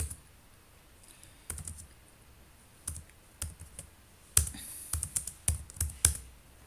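A short shell command is typed on a computer keyboard, with sparse, crisp keystrokes at first that turn into a quicker cluster of close, clicky taps near the end, over a quiet background.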